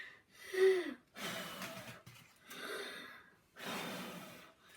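Slow, audible breaths during a home breathing exercise come in repeated long exhale and inhale cycles, close and steady with pauses between them.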